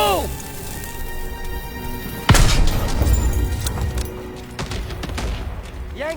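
A sudden loud blast from a thermite charge hits an enemy gun in a World War II shooter video game, followed by crackling debris and rumbling, with battle noise and shouted voices around it.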